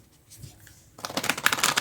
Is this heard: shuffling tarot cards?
yes